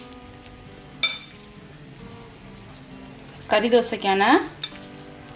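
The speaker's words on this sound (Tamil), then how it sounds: "முட்டையை இது மேலே ஊற்றி விடுவோம்" Egg poured over a dosa on a hot pan for Madurai mutton keema kari dosa gives a steady sizzling fry, while a voice talks over it partway through.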